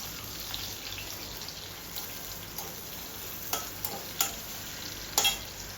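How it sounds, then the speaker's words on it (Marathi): Chopped onions frying in oil in a pan for paneer masala, a faint even sizzle with several light scraping and clinking stir strokes toward the end, close and quiet. "ते मी यात टाकते छान फ्राय करून घ्यायचा आहे हा कांदा देखील"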